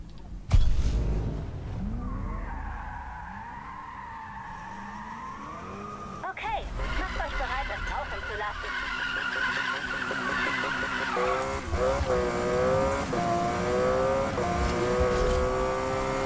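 Car tires skidding through a long drift in a Need for Speed racing game, a loud sustained squeal over a roaring, revving engine that shifts pitch as the car slides.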